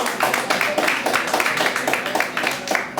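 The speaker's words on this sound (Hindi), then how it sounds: "उनका जोरदार तालियों से मंच पे आए" An audience applauds as a person comes onto a stage at a live product demo event, giving a steady, dense stretch of clapping that carries throughout.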